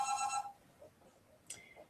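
A telephone rings in a nearby office, one short electronic ring burst at the start, then near silence with faint room noise and a brief higher chirp later on.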